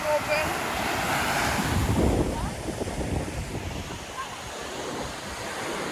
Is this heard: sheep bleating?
no